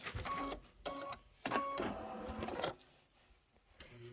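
An embroidery machine stitches a tack-down line on fabric for a reindeer tote bag, making a series of short mechanical whirring bursts with brief pauses between, close and moderately loud, fading quieter toward the end.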